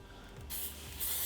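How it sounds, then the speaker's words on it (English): Non-stick cooking spray hissing onto a griddle before pork chops go on, two short quiet bursts of spray, the second starting just after the first ends. "we're going to spray our griddle with non-stick spray."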